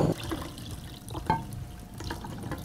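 Cold water pours and splashes into a container for a weather lesson, a close, steady liquid trickle with a couple of brief splashy bursts and no talking.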